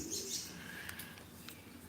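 Domestic pigeons coo softly in the background amid faint chirps and a light rustle of wings, with no one talking.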